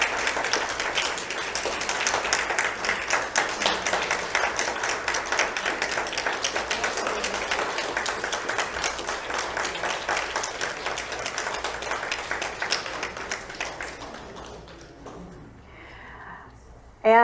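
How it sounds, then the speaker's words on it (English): Steady audience applause at a church service fills the room for about fourteen seconds, dense and sustained, then thins and fades out near the end. "A round of applause for that"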